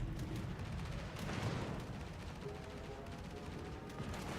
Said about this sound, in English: here comes airstrikes